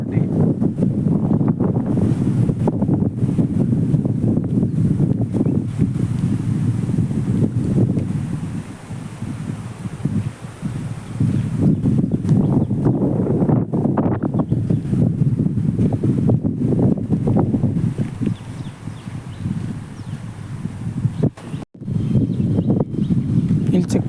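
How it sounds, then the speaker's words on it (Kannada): Strong wind at a village lake buffets the microphone in a loud, continuous low roar with gusty swells and brief lulls, a voice occasionally heard beneath it. "ಫುಲ್ ಗಾಳಿ ಎಲ್ಲ ಬೀಸಾತೈತಿ."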